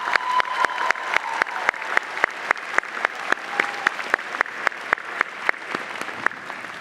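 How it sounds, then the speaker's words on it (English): Audience at a UCI Law School commencement ceremony applauds steadily, a dense wash of hand claps with a few sharp, prominent claps standing out, sustained and fairly near, with no one speaking. "could the graduates please join me in a round of applause for your friends and families"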